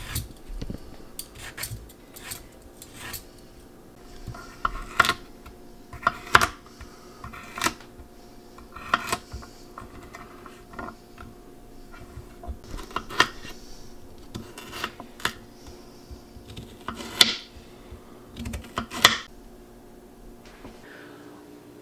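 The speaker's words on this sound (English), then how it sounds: "I'm going to peel it and chop it into bite-sized pieces." A parsnip is peeled and chopped in a kitchen: soft scraping strokes and scattered knife taps on a cutting board, faint and close, coming in irregular bursts with quiet gaps between them and no talking.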